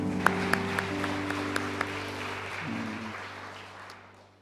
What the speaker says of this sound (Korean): 영광과 감사의 박수를 하나님 앞에 올려드리도록 하시겠습니다.